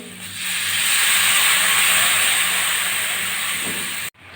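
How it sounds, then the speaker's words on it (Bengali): Broth poured into a hot pan of fish curry with salt and turmeric sets off a loud, steady hiss and sizzle that holds for about four seconds before cutting off abruptly. "এবার আমি ঝোল দিয়ে দিচ্ছি"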